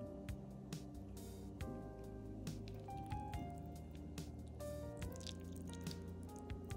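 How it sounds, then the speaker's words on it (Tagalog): Shrimp broth poured onto a dish of food, faint dripping and soft wet squishing with scattered small clicks and utensil taps, quiet and close, no talking. "dapat lagyan natin ng sabaw ng shrimp."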